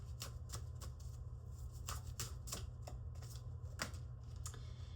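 Oracle cards are shuffled by hand in a quick series of crisp riffling flicks over a low steady hum, close and fairly quiet.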